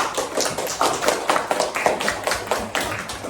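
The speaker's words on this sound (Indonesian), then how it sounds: "Kalau menyenangkan, tepuk tangan yang meriah dulu." A classroom of students clapping together at the teacher's request during an Islamic religious education lesson, a steady close burst of many hands lasting a few seconds with no talk over it.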